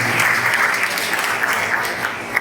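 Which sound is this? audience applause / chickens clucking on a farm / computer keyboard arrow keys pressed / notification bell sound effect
audience applause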